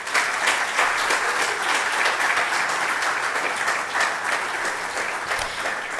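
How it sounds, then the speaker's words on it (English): Steady, dense applause from an audience at a ceremony for the WAGMC Genomic Medicine Building in Ghana, continuous and fairly close throughout with no break. "a round of applause for him, for his commendations and recommendations to the WAGMC Center"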